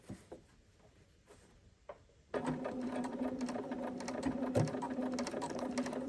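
A sewing machine stitches a blind hem with its tie-off stitch engaged and the needle swinging left into the main fabric. A few light taps come first, then a steady, close whirring hum runs to the end.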